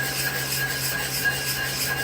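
Steady, close rubbing on a Treyco 3000 plate, a continuous dry scraping for about two seconds with no voices.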